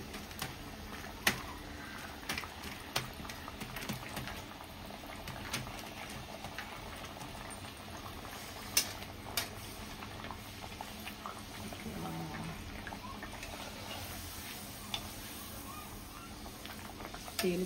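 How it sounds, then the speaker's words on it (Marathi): Red pumpkin puris deep-frying in hot oil give off a soft, steady sizzle with scattered small crackles and pops, faint and continuous throughout. "आपण अशाच तळूया।"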